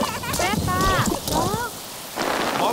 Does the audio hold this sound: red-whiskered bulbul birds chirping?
no